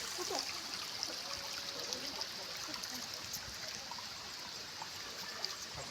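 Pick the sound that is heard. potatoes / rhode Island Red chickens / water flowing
water flowing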